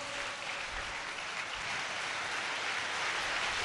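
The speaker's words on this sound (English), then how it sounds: "Come, let's clap for the Holy Ghost." A church congregation claps together in a steady, dense wash of applause that holds at an even level throughout, with no voices standing out.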